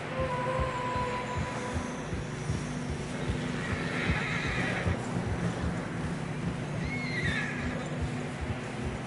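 Horses in Red Dead Redemption 2 whinny and neigh as their hooves plod through deep fresh snow on a narrow trail. The hoof falls are steady and close, and a couple of neighs rise over a constant bed of game ambience.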